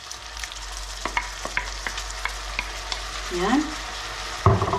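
A spoon scrapes and taps in a pan of frying pork belly with tiny salted shrimp, soft sizzling beneath a series of sharp stirring clinks, with a brief spoken word near the end.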